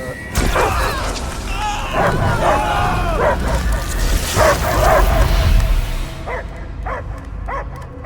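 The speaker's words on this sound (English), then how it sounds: "I hear only barking" Dog barking and yipping in a scene from the video game Guardians of the Galaxy, repeated barks in quick bursts over game music and effects, with a few sharper yelps near the end.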